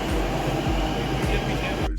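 Delhi Metro train rumbling at a station platform, a steady loud low drone with rhythmic thumps roughly every half second as carriages roll past, cutting off abruptly near the end.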